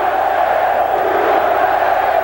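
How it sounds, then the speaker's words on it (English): A large arena crowd in Reno, Nevada roars steadily at an amateur boxing dual match between Cuba and the USA, a dense, sustained mass of voices chanting throughout without pause. "Crowd in Reno, Nevada chanting USA"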